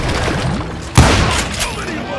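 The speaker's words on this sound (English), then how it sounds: "a fusillade of bullets come raining down from on high" Gunfire volley in the Call of Juarez Gunslinger video game: a dense, rattling barrage of shots that swells into a heavy boom about halfway through, then keeps crackling over a noisy backdrop with voices mixed in.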